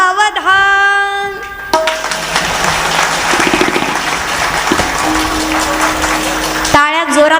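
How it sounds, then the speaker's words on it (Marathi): Loud, sustained clapping from the audience at a Marathi kirtan by a performer. It lasts about five seconds between stretches of singing and voice. "टाळ्या जोरात वाजल्या"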